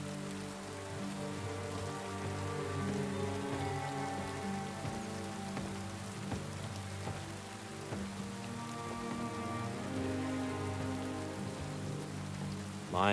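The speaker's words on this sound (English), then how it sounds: "Bro's just standing in the rain." Steady rain patters on surfaces in the video game Kingdom Come: Deliverance 2, an even, continuous hiss with occasional sharper drops, moderately loud and without speech.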